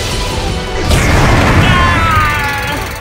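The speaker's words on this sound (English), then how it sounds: "Now, fire! Thunder Borol Cannon!" The Thunder Borol Cannon fires in the Yu-Gi-Oh! Duel Links video game: a loud, sustained booming blast with a roaring, crashing sweep that fades slowly, with no voices.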